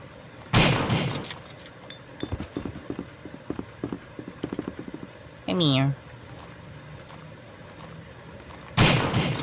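Shotgun blasts in a Resident Evil video game, fired at a zombie: loud broadband bursts at the start and end, with scattered thumps and clatter between them and a short rising effect in the middle.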